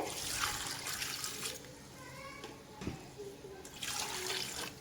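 Water poured into a cooking pot for black chickpeas, the spices already added; bursts of splashing come close and fairly loud, with a brief pause mid-way before the pour resumes.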